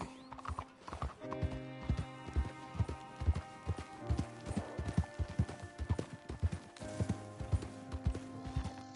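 Horse hooves clip-clop at a steady trot on hard ground in Red Dead Redemption 2, sharp rhythmic hoofbeats close by, a whinny near the start and game ambience beneath, without speech.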